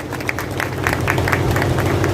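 Crowd applause at a gathering welcoming a newly appointed Ghaziabad district president, a dense steady clapping with scattered sharper claps lasting a couple of seconds, fairly loud and close, with no talking over it.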